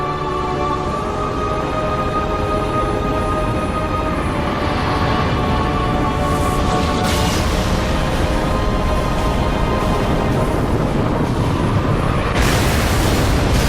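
The frigate Grafton exploding in Halo Reach: a dense, continuous roaring blast and rumble that stays loud for the whole stretch, with crackling bursts layered on top.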